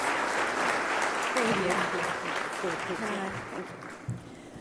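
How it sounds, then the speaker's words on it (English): Award ceremony audience applause at a freedom fund gala, a dense, steady wash of clapping that carries throughout and tapers slightly near the end, with a voice briefly audible over it. "A round of applause."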